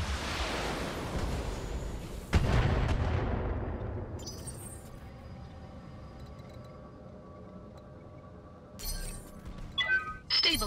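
Mech weapon fire in the BattleTech game lands as a heavy crashing blast with a long rumbling decay, followed by sharp metallic bursts and clanks.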